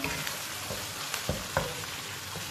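Whole green chilies frying in oil for green chickpea rice, a continuous close sizzle broken by a few soft stirring knocks, with no talking.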